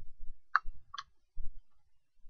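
Two crisp mouse clicks about half a second apart, close and fairly loud over a quiet background with faint low desk bumps, while setting up a 3D far-field view for a thick dipole simulation.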